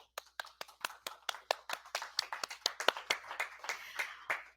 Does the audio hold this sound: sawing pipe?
no